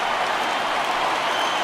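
The home crowd in the baseball video game MLB The Show 20 roars after a home run, a steady dense wash of cheering and applause filling the whole stretch.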